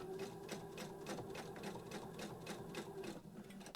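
A sewing machine stitches the handle of a fabric storage caddy in a rapid, even mechanical chatter of needle strokes, close and moderately quiet, running steadily before slowing near the end with no voices.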